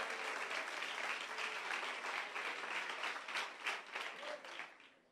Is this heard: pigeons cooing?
no